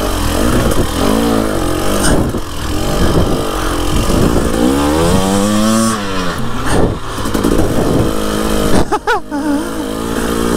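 Husqvarna TE300i enduro motorcycle on a trail ride, its engine revving up and down continuously close by, with rising and falling pitch sweeps as the throttle is worked.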